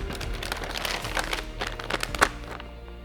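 A clean plastic bag is rubbed over rough, freshly washed car paint, producing close, soft crinkling and scratchy rubbing strokes in quick bursts, with no talking.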